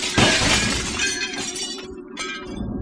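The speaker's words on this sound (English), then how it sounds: "several of the den windows shattered inward" Den window glass shatters inward after an explosion on a patio, a loud burst of breaking panes followed by scattered tinkling shards falling and clinking.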